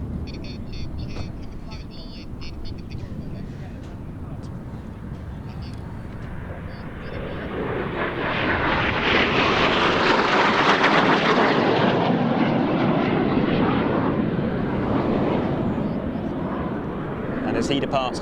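A Frecce Tricolori solo jet makes an inverted pass at an air show, its roar swelling from distant to a loud close rush and then easing off, with a commentator talking over it.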